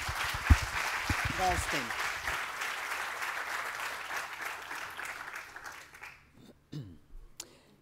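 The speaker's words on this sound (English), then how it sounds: "Another applause, please" Audience applause fills an auditorium at a medical cannabis conference in Lisbon, a dense steady clapping that fades out over several seconds, with a voice speaking over it near the end.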